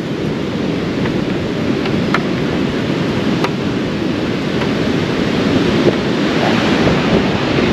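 Steady roar of breaking ocean waves nearby at Cemara Beach, Cidaun, on the south coast of West Java, loud and unbroken, with wind rumbling across the microphone.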